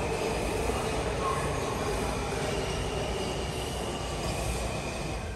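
A subway train in Washington, D.C. rumbles loudly and steadily, a dense roar of wheels and motion filling the whole stretch.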